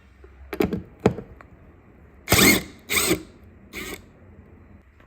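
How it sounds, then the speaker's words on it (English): Short mechanical bursts from a compact impact driver with a T20 Torx bit backing out a cab light screw on a 2017-2022 Ford F250/F350, three rapid hammering rattles after a few lighter clicks and handling taps, close and fairly loud. "I like to use my trusty little impact with the T20 on it"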